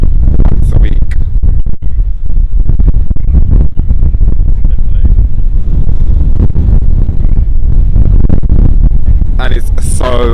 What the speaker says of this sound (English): And it's so windy out here.